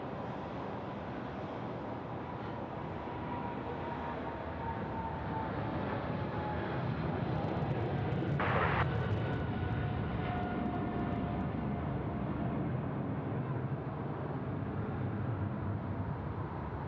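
Airliner landing on runway 34 left at Sydney Airport, a sustained wide engine roar that swells slightly mid-way with a brief hiss burst, then steadies, heard alone.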